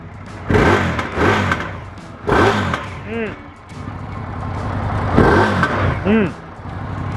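Indian Scout cruiser motorcycle, 2024 model, revving in sport mode, with several sharp, aggressive throttle blips rising and falling close by, separated by brief idle dips.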